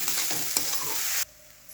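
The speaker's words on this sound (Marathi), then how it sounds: "हे पोहे व्यवस्थित परतून घेते" Poha for kande pohe is stir-fried in a pan, a close, bright sizzle with a couple of quick scraping stirs that stops suddenly, leaving a quiet hum.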